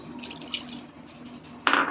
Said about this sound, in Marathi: पाणी घालून घेते